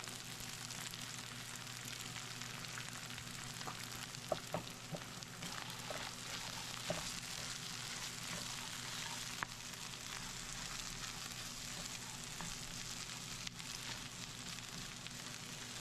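An egg fries in a pan, with a constant soft sizzle and occasional small crackles and pops under a low steady hum, with no talk.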